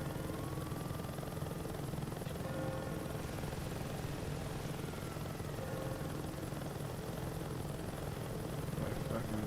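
Helicopter in the video game Saints Row 2, a steady loud rotor and engine drone holding constant throughout, with faint speech underneath.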